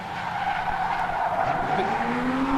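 Drift car skidding at a drift championship final round, with a steady loud tire squeal and engine tone sliding upward, continuous and close throughout with no talk.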